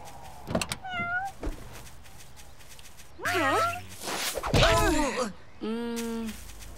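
Several cat meows, a short one early, then longer drawn-out yowls later, mixed with thumps and scuffling noises in between.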